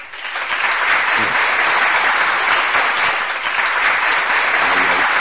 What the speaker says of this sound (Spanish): El aplauso está que ya se queda dormido ya.